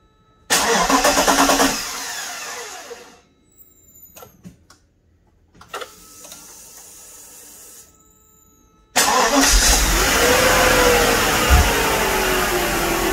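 A Mercedes R129 roadster engine cranks at length before it catches, with bursts of starter whirring and pauses between them, then a loud steady running engine close by.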